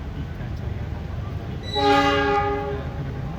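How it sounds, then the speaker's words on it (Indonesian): Locomotive being coupled to a passenger train at a station, with steady rumbling and a loud horn-like tone rising midway and fading out. "Penyambungan lokomotif."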